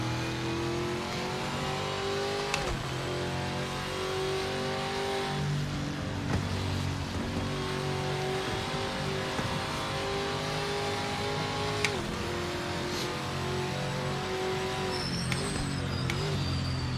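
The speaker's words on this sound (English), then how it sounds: "love hearing all the other cars come flying past in the other direction" Race cars in the Project Motor Racing game drone steadily at high revs, with gear changes and other cars flying past in the opposite direction over the player's own engine note.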